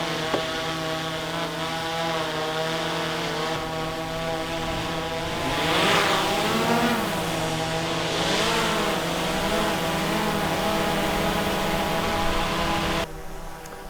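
DJI Mavic 2 Pro drone propellers spinning up and flying close by, a steady high-pitched multi-tone whine with shifting pitch that swells in the middle, then cuts off abruptly near the end.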